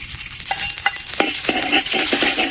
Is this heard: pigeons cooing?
no